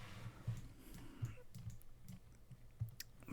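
Quick, irregular computer mouse clicks while editing in Blender, faint and close, a handful of sharp taps spread over a few seconds.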